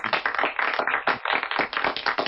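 Steady applause from participants in an online club meeting, a dense burst of many hands clapping that carries on for the whole stretch, close and fairly loud with no talking over it.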